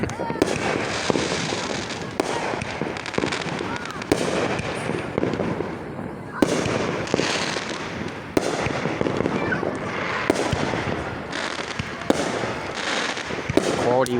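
Close Fourth of July fireworks pop and bang in rapid, uneven bursts around a residential area, each sharp report trailing crackle, as a voice talks now and then between the blasts.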